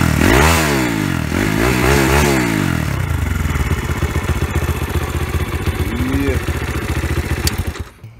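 Piranha 140 engine in an Icebear Champion pit bike, a CT70 clone, revving hard up and down several times close by, then settling into a rough, loud idle with rattling.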